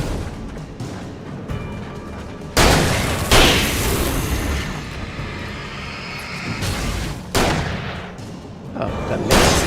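Shotgun blasts in the video game Alan Wake, fired in a tight corridor: a few loud, booming shots spaced a few seconds apart over a steady bed of game noise.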